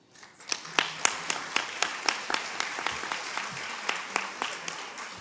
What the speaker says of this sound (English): So a round of applause for that excellent panel.